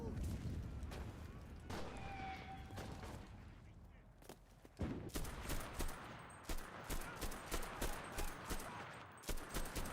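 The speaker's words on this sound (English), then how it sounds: "I'm just blind firing into the windows because I can't see anything." Bursts of gunfire from an MKb-42H assault rifle in the video game Enlisted, a quick rattle of rhythmic shots in clustered volleys, with a voice talking over the first half and more distant firing between.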